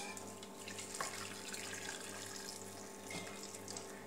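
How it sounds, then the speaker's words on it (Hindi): Hot water pours in a continuous stream into a pot, quiet and close, with a low hum underneath. "चलिए इसमें थोड़ा पानी गर्म डाल लेती हूँ"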